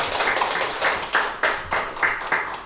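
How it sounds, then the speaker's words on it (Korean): Audience at a presidential pre-candidate debate hosted by a journalists' association giving brief applause, a moderate cluster of clapping with distinct rhythmic claps standing out near the end. "박수 한번 주시겠습니다"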